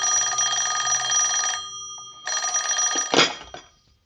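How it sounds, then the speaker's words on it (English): An old telephone bell rings in a police radio drama, two long loud metallic rings separated by a short pause, and the second is cut off as the receiver is picked up with a clatter. "I started toward the phone to call Ben, but just then the phone rang."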